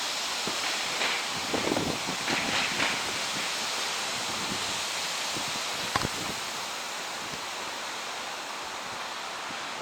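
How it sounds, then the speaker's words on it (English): A strong wind gust from Tropical Storm Isaias in Connecticut, heard as steady broadband roaring and rustling that swells briefly early on and holds loud throughout with no talking. "So winds are getting gusty."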